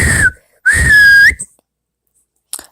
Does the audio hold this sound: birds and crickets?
no